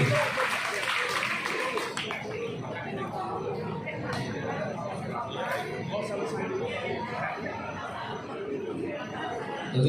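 Applause from a gathered crowd of residents and volunteers at a morning beach event at Pantai Mutiara, Pluit, Jakarta: scattered clapping mixed with chatter and light laughter, fairly distant and moderate throughout.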